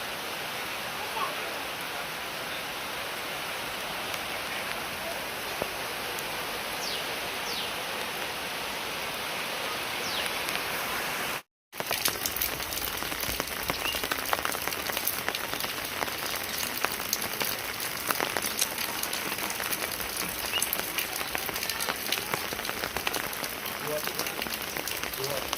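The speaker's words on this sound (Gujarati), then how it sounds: "આ વરસાદ ચાલુ છે." Steady rain falls across a village street after a downpour, a continuous broadband hiss with no breaks apart from a momentary gap near the middle, close and even throughout.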